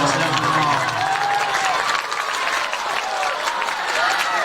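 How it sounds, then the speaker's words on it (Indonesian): An audience at an Islamic boarding school Q&A gathering claps for guest speakers, a steady crowd applause continuing throughout, with a voice speaking over it near the start. "tepuk tangan untuk bintang tamu kita"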